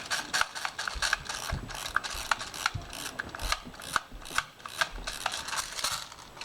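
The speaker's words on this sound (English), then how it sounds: "Wind it up tight, hold it over the container, spit them all out." Repeated ratcheting clicks as the winding wheel of an airsoft M4 high-capacity magazine is turned, close and fairly loud, in uneven bursts with no talking.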